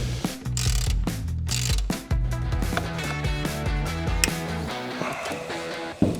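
A ratchet clicks rapidly while a screw is removed during an intake repair on a BMW 335i, dense mechanical ratcheting heard close up and fairly loud, with a few sharp knocks.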